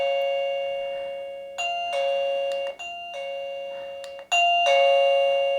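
XTU MR02 doorbell chime set to its loudest volume, a bright electronic melody of sustained tones repeating twice, loud and close with nothing else heard.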